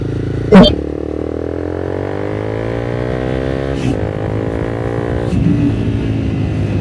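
A single-cylinder 250cc sport motorcycle engine drones steadily and revs up gradually, with a sharp clunk near the start and a couple of brief gear shifts.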